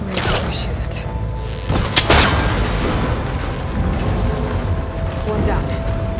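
A shot cable connector in Horizon Forbidden West snaps with a heavy metallic thud amid ongoing mechanical rumble and clanking; a voice talks over part of it.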